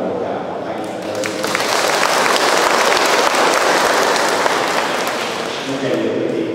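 Sustained applause from a church congregation at a Catholic Mass, building after the first second and continuing loudly and evenly to the end.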